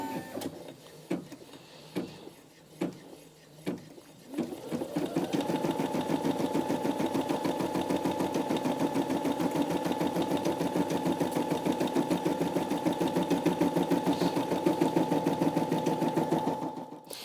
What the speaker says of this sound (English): You'll see the light's gone green, so I can press that and it will start embroidering.